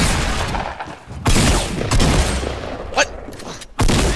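Video game gunfire in a squad shooter, heavy hand cannon shots cracking loudly in quick succession amid dense battle noise, with a player's excited voice breaking in.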